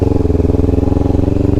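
Motorcycle fitted with a DX Generation exhaust header and a Daytona muffler, idling steadily close by with a rapid, even pulsing throb and no voices.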